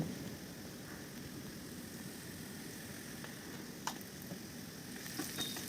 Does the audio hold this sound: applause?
no